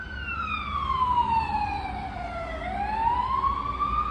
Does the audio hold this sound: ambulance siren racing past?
yes